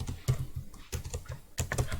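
Keys clatter on a computer keyboard in quick, close, irregular taps, with a few slightly heavier strokes mixed in and no talking.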